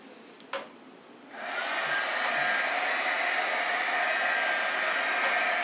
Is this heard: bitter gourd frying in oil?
no